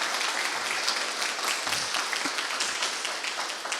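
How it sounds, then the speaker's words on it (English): Audience applause for poets at a museum writers' event, a dense steady patter of many hands clapping at close range throughout, with no talking. "Please give another round of applause for our wonderful poets"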